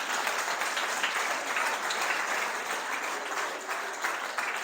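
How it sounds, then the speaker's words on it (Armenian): An audience at a sermon claps together in a dense, continuous round of applause that holds steady and fairly loud from start to finish. "այո, ծափահարեք"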